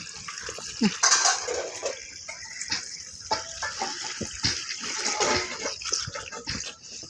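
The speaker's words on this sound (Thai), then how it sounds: "ล้างผักก่อนนะคะ" Vegetables from a home kitchen garden being rinsed in a basin of water outdoors at dusk, with steady splashing and sloshing close by and a few brief louder splashes throughout.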